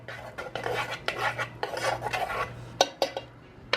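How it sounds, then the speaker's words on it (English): Utensil stirring hot, bubbling soy sauce rib glaze in a pot, a series of scraping, clinking strokes with sharp metallic taps near the end, close up, over a low steady hum. "Give it a stir."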